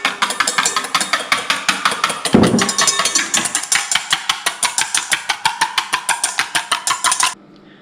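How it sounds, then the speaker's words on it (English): A whisk beats garlic aioli with olive oil in a bowl, giving a steady run of rapid rhythmic clicks and scrapes that carries on for about seven seconds with a brief louder clatter partway through, then stops. "Now I'm going to slowly start adding a little bit of olive oil and keep whisking again."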